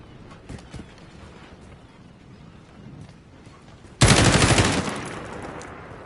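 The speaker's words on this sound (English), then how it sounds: "As soon as I hit the center of the yellow mark, I'm going to pull the fire button." Kilo rifle in Call of Duty firing a sudden loud sustained automatic burst after quiet footsteps and movement, rapid shots blurring together for about a second before tapering into echo.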